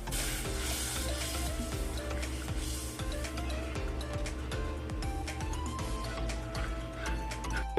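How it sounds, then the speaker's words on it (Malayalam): A spoon stirs masala thinned with a little water in a hot pan, giving a steady, close sizzle with small scraping ticks over about eight seconds and no talk. "ഇനി ഇതിലേക്ക് നമുക്ക് കുറച്ച് മാത്രം ഒന്ന് വെള്ളം ഒഴിച്ചു കൊടുക്കാം. എന്നിട്ട് എല്ലാം കൂടി നല്ലപോലെ ഒന്ന് മിക്സ് ചെയ്തെടുക്കാം."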